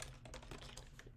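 Rapid, faint typing on a mechanical keyboard with separate flat keys, a quick irregular patter of clicks with no voices.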